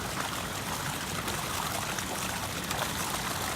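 Water gushes out of a pipe at a trout farm, flushing fish down from the hatchery, a constant, dense, loud splashing rush with no pauses.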